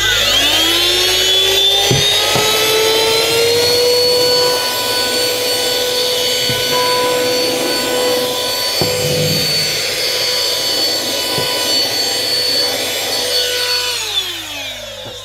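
A Himox V02 cordless handheld vacuum cleaner runs at maximum suction on a kitchen worktop beside a gas hob, picking up rice. It gives a loud, steady whine that holds for most of the stretch, with scattered clicks of grains, before winding down at the end.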